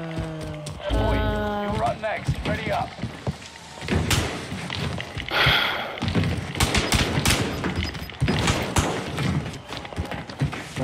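Gunfire in Call of Duty Warzone in a gulag fight, with rapid bursts of shots and thuds mixed into game noise while players talk over it.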